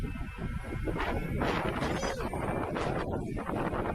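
Strong wind buffets the microphone outdoors in a steady, loud roar with gusty surges and broadband rushing, heard alone throughout.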